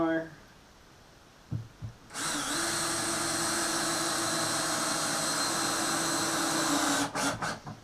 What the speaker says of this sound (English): I'm only putting 2 screws in